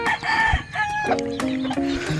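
A large talisayan rooster crows loudly and close, its drawn-out call rising then falling in stepped tones over about two seconds, with no talk over it.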